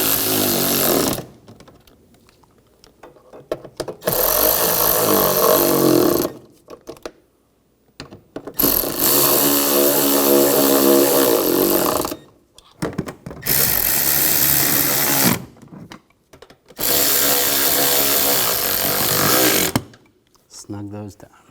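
Power tool running down strut mount nuts on a 2007-2013 BMW X5 front strut replacement, four loud bursts of several seconds each, separated by short pauses and quiet handling noise.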